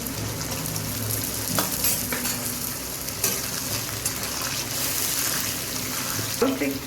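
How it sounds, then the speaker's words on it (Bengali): Sliced potatoes and onions fry in hot oil in a pan, giving a steady, close sizzle with occasional stirring scrapes and clatters throughout. "আলুগুলো একটু ভাজা হয়ে যাবে পেঁয়াজগুলোর সাথে।"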